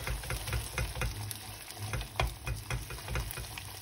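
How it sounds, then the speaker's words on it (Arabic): Butter stirred quickly into caramelized sugar in a pan while making a chocolate cake, giving a close, continuous bubbling sizzle with repeated rhythmic scraping strokes. "من بعد ما تكراميليزا لينا السكر، غادي نزيد معاه الزبده وغادي نحرك على هذا الشكل هذا"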